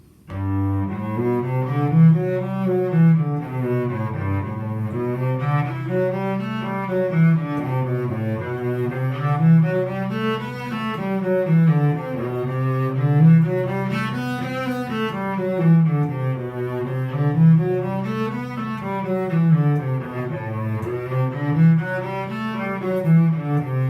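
A solo cello plays Sebastian Lee's Etude Op. 70 No. 12, flowing rising and falling phrases in a steady rhythm, close and clear, with no talking.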